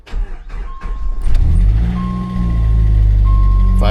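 An old scrap-bound pickup truck with its air conditioning out and check engine light on cranks briefly and fires up close by, settling into a loud, steady idle with a faint electronic chime.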